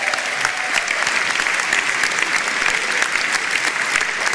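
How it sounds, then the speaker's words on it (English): A crowd at a Reform UK local election campaign launch in Sunderland applauds one of the party's candidates, with loud, sustained, evenly dense clapping throughout. "Round of applause for one of our candidates"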